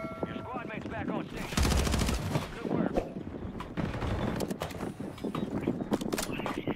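Gunfire in a Warzone 3 match, with rapid machine-gun bursts and single shots, one loud sustained burst near the start, then scattered shots under ongoing voice chat.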